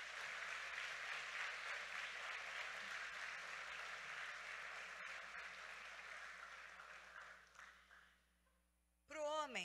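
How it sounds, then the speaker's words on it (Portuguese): A church audience applauds the actresses in a sustained, fairly distant round of clapping that gradually fades out, with a voice starting as it ends. "Aplauda as atrizes."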